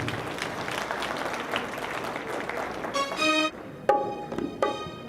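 Audience applause at a Punjabi cultural fair stage in Sacramento: steady dense clapping from a crowd for several seconds, then breaking into a few louder sharper bursts near the end.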